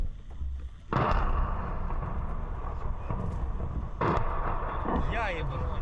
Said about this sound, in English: But we hear explosions happening at the plant.